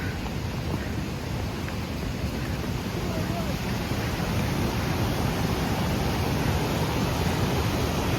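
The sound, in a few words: Dry Creek Falls waterfall rushing on the Pacific Crest Trail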